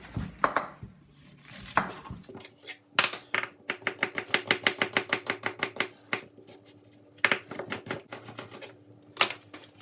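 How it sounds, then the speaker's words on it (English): A knife finely dices an onion on a board in rapid, evenly spaced taps, with a dense run of close chops in the middle and scattered heavier strokes before and after. "We're going to finely dice an onion first of all."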